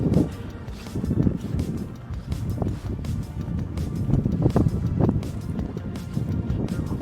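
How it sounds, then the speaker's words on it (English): Strong, whipping wind blows snow across the summit of Mount Washington, a steady broadband roar with gusts buffeting the microphone throughout, no voices heard. "the haze made worse by the whipping wind blowing around the snow on the mountaintop"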